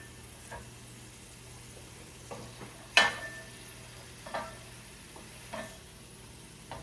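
White wine with garlic cooking down in a pan, a soft steady sizzle broken by a few scattered stirring scrapes and clinks, one sharper clatter near the middle, no voices.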